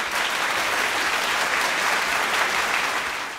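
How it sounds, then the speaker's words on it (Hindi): A hall full of people breaks into sustained applause after the signing of a Gaza peace agreement, a thick, even roar of clapping that holds steady and loud before easing off slightly at the end. "जिसके बाद हॉल तालियों से गूंज उठा।"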